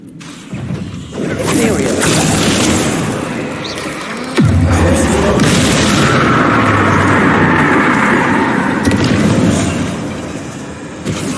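Bombarda explosion spell cast in Hogwarts Legacy: a sudden heavy blast with a low rumble lands midway, then sustained crackling and roaring debris under continuing game noise, with a voice talking at the start.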